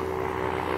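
A propeller airplane runs at an airfield where flying lessons are given, its engine drone steady and fairly loud throughout the short stretch with no voices.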